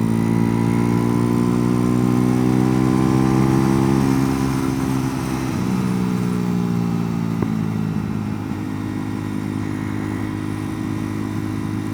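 A Chinese copy of a Honda motorcycle engine revs high, a loud buzzing drone climbing in pitch, then easing and holding steady, close and continuous with no voices.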